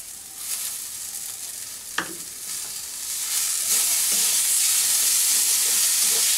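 Bean bhorta of mashed flat beans with sugar and fresh coriander leaves is stirred in a pan over a gas flame, giving a steady close sizzle and scraping with one sharp clink early on.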